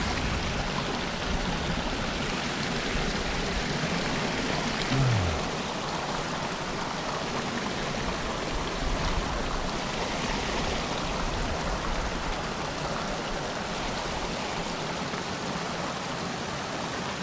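A creek flows steadily over rocks, a constant close rushing wash of water heard alone without any talk.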